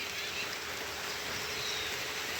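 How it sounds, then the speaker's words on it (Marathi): Light, steady rain patters softly and continuously, a faint even hiss of drizzle with no talking. "अजूनही थोडंसं झिमझिम चालतं आहे आवाज येत असं याच्यात"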